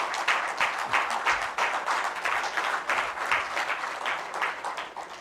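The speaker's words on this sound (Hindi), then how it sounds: "जोरदार तालियों से हमारे माननीय मुख्यमंत्री का स्वागत किया जाए।" Steady applause from a crowd welcoming the Chief Minister at a Jharkhand administrative service association event, a dense patter of many hands clapping continuously at moderate distance.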